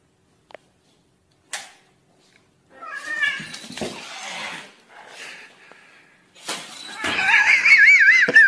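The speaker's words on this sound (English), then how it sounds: "The cat." A cat meows a few times in short, separate calls, with louder rising cries near the end and brief bumps in between.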